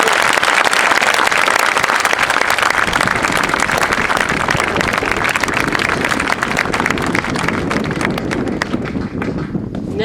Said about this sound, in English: ladies and gentlemen, a round of applause for the band and the artillery unit